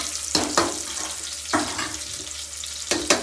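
Onion and garlic fry in a pan for mutton biryani, a soft continuous sizzle broken by four sharp spatula scrapes as the mix is stirred.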